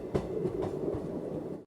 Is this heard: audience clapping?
no